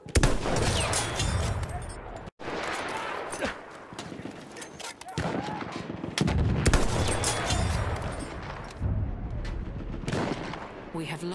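Machine gun fire in the video game Battlefield 1, sustained loud bursts and rattling volleys with distant gunshots and battle noise, continuing almost throughout with a brief break, voices talking in the mix.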